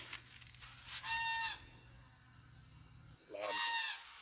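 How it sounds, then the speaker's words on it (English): A goose honks loudly in two separate bursts at a beekeeping yard, the calls standing out over quiet background noise with a gap of relative calm between them. "loud goose"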